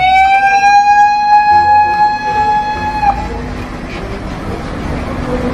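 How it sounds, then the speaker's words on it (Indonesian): A fire truck siren wails loudly in steady rising and falling tones for about three seconds, then cuts off, leaving rumbling engine noise. "Di sini ada truk pemadam kebakaran."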